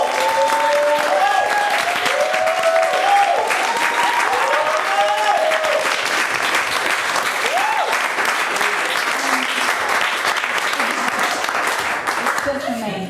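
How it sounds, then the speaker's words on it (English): Sustained audience applause for the artists at an artist talk, steady and fairly loud throughout, with a few voices and whoops rising over the clapping. "give a round of applause to Oze and Dustin."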